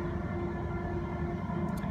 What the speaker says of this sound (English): here we are on a train